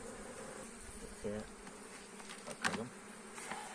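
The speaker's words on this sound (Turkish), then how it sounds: "Çam'dan gelen arı atıyor kendini. Arının çalışması gayet güzel." Honeybees flying in to a hive from pine trees make a faint, continuous buzz with a few louder passes close by, while a person murmurs briefly nearby.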